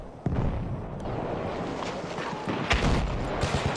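A grenade explodes in a video game with a sudden heavy blast. Dense, rumbling battle noise follows without a break, and another booming hit comes near the end.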